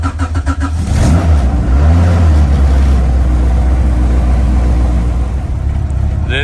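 A car engine cranks with a quick stutter, catches, then roars into a loud, steady revving idle with the throttle held open.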